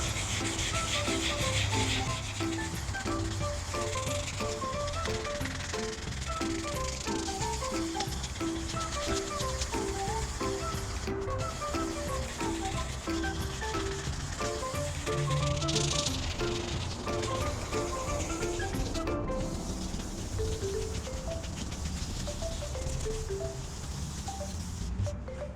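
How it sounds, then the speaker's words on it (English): Wet sandpaper, 400 grit, rubs back and forth across a Corvette headlight lens, a continuous rhythmic scratchy swish with regular strokes, close and steady, alongside a faint background tone and no clear talk. "All right, and just start sanding it."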